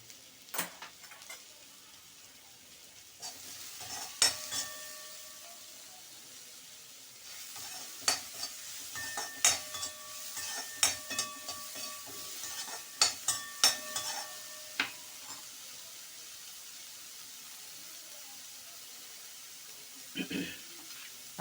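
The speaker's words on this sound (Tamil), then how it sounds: "இந்த புடலிங்காய் விதையை வந்து கொஞ்சம் வதக்கிக்கலாம்" Snake gourd seeds sautéing in a pan give a steady low sizzle, broken by repeated sharp clicks of a spatula scraping and tapping the metal, close and fairly quiet, with a brief pause midway.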